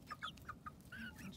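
A young chick lets out a series of short, high chirps in quick succession, close by and fairly soft, with a low background rumble underneath.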